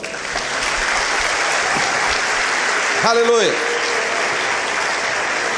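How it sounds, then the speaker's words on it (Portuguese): Sustained applause from a church conference crowd, loud and steady, with a voice briefly calling out over the clapping. "Você pode aplaudir ao Senhor?"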